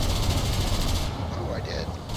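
Aircraft gunfire in War Thunder from a BV 238 German bomber, a dense continuous rattle of rapid shots over a loud engine drone that cuts off partway through, close and heavy.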